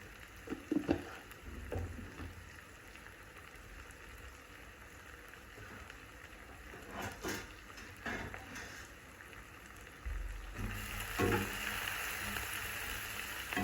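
Onions frying with salt in a pan for a green peanut curry, a steady soft sizzle lasting throughout, broken by a few clatters and stirs, then growing louder and fuller toward the end.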